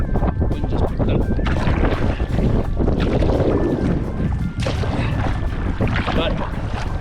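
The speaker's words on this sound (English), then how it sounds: "wind just picked up" Strong wind buffets a kayak paddling along a shoreline beside an island, with swell rolling in; a steady, loud roar of gusts and microphone rumble, close and continuous, with possible faint voice underneath.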